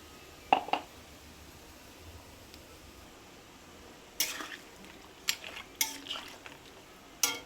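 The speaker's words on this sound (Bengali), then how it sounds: "এই যে সবজির ঝোল হচ্ছে লাউ ঘন্ট ডালের বড়ি দিয়ে, এগুলো এখন দিয়ে দেবো ঝোলের মধ্যে" Bottle gourd and lentil dumplings are dropped into a pot of vegetable curry, making a few sharp clinks and clatters of utensils against cookware amid a quiet background hiss.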